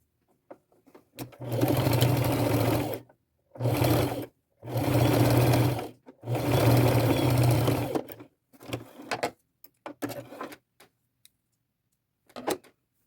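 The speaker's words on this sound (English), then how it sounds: "Now I'm going to take these 2 ends, put them right side together, and sew them closed." A sewing machine stitches the ends of a fabric ruffle closed in four loud, close whirring bursts, separated by pauses with small clicks and handling of the fabric.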